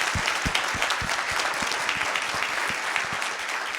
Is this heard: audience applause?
yes